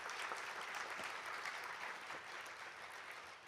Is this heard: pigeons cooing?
no